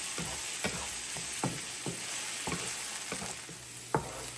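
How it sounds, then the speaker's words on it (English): Onions and garlic sauteing in a frying pan, a steady close sizzle broken by repeated stirring scrapes and clicks at an irregular rhythm, with no talking. "Give this a little nice saute for a couple minutes."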